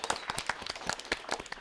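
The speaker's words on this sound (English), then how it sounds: "Can we give them a round of applause," Scattered handclaps from a small audience applauding Michelle, Jack and Max at an animal-care event with Chester Zoo, fairly close and uneven, with a brief burst of individual claps and no talk.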